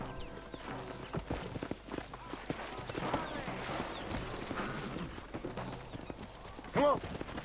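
A horse clip-clops at a steady trot in the western video game Red Dead Redemption, hooves drumming under game noise and a brief whinny near the end, while people talk over it.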